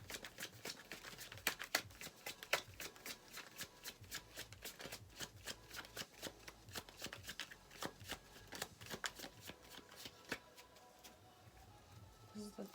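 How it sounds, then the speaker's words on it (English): Tarot cards shuffled over and over in quick, crisp riffling bursts, close and fairly quiet, with sharp snaps between shuffles. "card shuffle."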